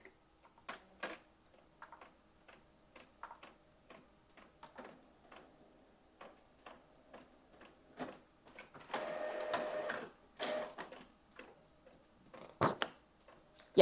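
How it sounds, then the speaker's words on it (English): A craft printer running a print pass, giving a steady series of ticking mechanical clicks and short whirs, then a louder stretch of feeding and carriage movement near the end, with no talking. "I want to see if I can print on that now"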